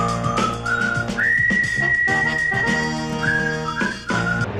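People whistle a warbling, oddly bent rendition of a cheerful tune, sustained melodic notes rising and sliding, fairly close and loud with no talking.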